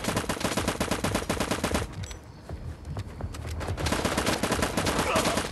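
Rapid automatic gunfire from the survival shooter game LifeAfter, loud dense bursts of shots for about two seconds, a brief lull, then another sustained volley that runs to the end.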